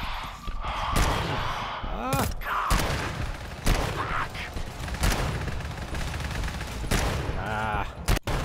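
Heavy gunfire bursts out in a video game, with sharp repeated shots and rapid volleys scattered across the scene amid chaotic game sounds, while a voice speaks intermittently underneath.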